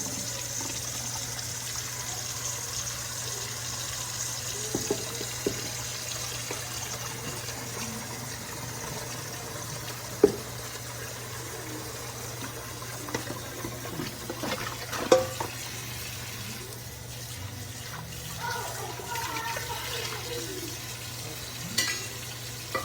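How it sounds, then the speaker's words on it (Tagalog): Tap water runs steadily over meat being washed in a home kitchen, a constant gushing hiss with occasional clinks and handling knocks, close by and with no talking. "Huhugasan ko lang yung ating karne."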